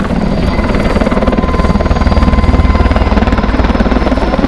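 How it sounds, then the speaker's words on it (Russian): A Mil Mi-26 heavy helicopter flies at the MAKS-2011 airshow, its loud, close rotor throbbing in a fast, steady beat over a deep engine roar. "Обратите внимание, как легко и изящно этот вертолет пилотирует заслуженный летчик, герой России Александр Климов."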